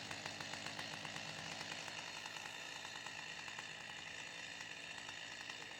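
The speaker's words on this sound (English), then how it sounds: "let's fire up this chainsaw and get her done" A chainsaw runs steadily for the whole stretch, its engine note constant and loud with a rapid buzzing pulse, used on a homemade hillbilly firewood processor, with no voices.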